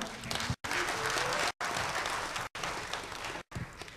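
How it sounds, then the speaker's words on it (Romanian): Audience applause at a music festival competition, steady clapping in four bursts separated by brief silent gaps. "Aplauze pentru Lucia."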